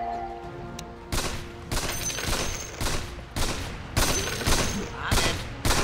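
Video game gunfire cracks out in repeated loud bursts, about seven volleys spaced roughly half a second to a second apart, each a sharp broadband blast with a brief tail.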